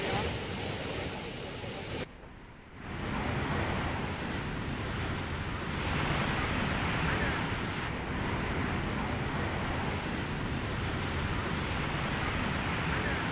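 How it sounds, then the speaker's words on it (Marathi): Roaring rush of the Someshwar waterfall in Nashik, overflowing after heavy monsoon rain, makes a dense, steady wash of water noise that dips briefly near the start and then holds constant. "मुसळधार पावसानंतर सोमेश्वर धबधबा ओसंडून वाहू लागलाय"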